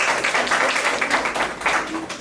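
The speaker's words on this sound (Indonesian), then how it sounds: "Beri tepuk tangan untuk kelompok pertama." A classroom group claps for the first team during a Javanese language lesson, a brisk, close burst of hand clapping with slight swells and dips in intensity, plus faint voices underneath.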